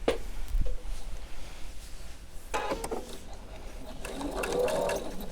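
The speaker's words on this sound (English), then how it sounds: "let me sew this" A sewing machine runs steadily, stitching a seam on a quilt sampler block, with a soft mechanical whir and a few light clicks and knocks close by.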